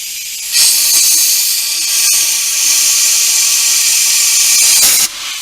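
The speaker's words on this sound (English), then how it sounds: "the easiest way that I've ever found is with your air hose, air blower, and just stick the string in there" A compressed-air hose blows a string through a motorcycle handlebar for a custom bagger bar install, making a loud, steady hiss that starts abruptly, holds for about four and a half seconds, then cuts off.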